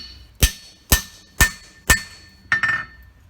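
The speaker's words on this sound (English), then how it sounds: "And I'll punch the nail holes there." Four sharp, evenly spaced hammer blows ring out as a punch drives nail holes into a horseshoe, followed by a quick double strike; each hit is loud and metallic with a brief ringing tail.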